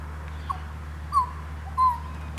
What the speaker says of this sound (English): It's a magpie. There's a kookaburra.